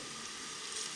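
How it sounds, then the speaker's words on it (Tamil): Mustard and fennel seeds sizzling in hot oil and ghee for a cowpea rice dish, giving a steady, close, hissing crackle with no talk over it. "இப்போ மசாலா எல்லாம் நல்லா பொரிஞ்சிடுச்சு"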